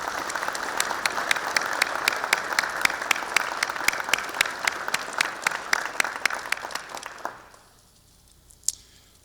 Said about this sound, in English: please join us in a round of applause for all of our distinguished guests